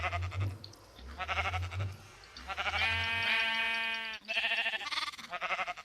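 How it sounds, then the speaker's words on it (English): Minecraft sheep bleat over and over from a crowded flock pressed close together in the game, loud wavering baas overlapping one after another with short gaps between, no talk. "I'm pressed up against a whole bunch of sheep."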